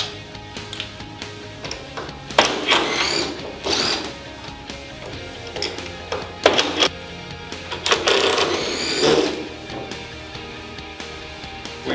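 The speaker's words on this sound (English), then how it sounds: "We've removed all the screws" Screws being removed from a back splash panel of an RTF Systems unit, heard as intermittent whirring bursts of a power screwdriver with mechanical clicks in between, close and fairly loud.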